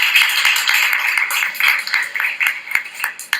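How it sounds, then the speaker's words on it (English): Light audience clapping at a podcast festival panel, scattered individual claps with a sparse, uneven rhythm rather than a full roar, fairly close and moderately loud. "So, quick round of applause"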